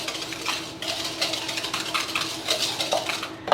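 Vanilla being whisked into cranberry bread batter in a bowl, a steady run of quick wet scraping and clinking strokes, close and fairly loud, with no voices.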